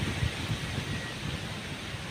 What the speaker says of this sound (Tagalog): Tapos pag lumabas yung hangin, malakas.